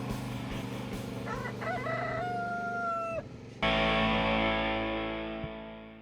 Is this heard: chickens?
yes